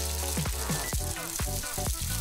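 In a cartoon, water sprays from a burst pipe with a continuous loud hiss, cut through by several quick falling whistle-like sweeps. No one talks over it.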